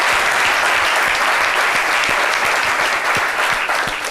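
Loud studio audience applause on a French midday television show, a thick continuous roar of clapping with some sharper individual claps standing out, filling the whole short stretch.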